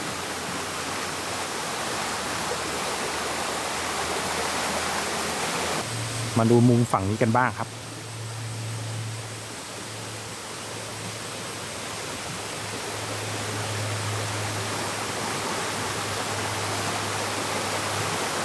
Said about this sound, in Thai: โอ้ น้ำไหลยาวไปนู่นเลยนะ